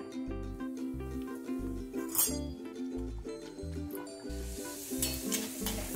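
Fresh methi puris deep-frying in hot oil give a steady close sizzle and bubbling, while a regular low clunking beat and musical tones play over it throughout, with occasional light clinks.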